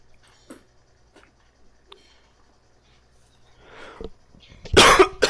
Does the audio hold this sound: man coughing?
yes